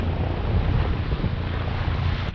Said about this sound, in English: Wind's picking up a little bit now.